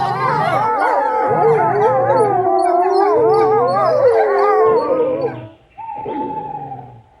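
A pack of wild wolves in Bulgaria howls in several overlapping, wavering voices that rise and fall together, loud and sustained. The chorus fades out, then a single steadier howl follows, with no talk.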